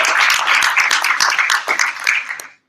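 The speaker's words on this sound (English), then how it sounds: "We get a hand clap for that." Small audience at a travel business presentation clapping hands, distinct claps from a modest group close by, tapering off and stopping abruptly just before the end.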